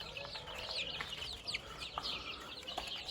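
A group of 34 young Brahma chicks in a coop, their faint, high-pitched cheeps repeating in quick scattered bursts over a low steady background hum.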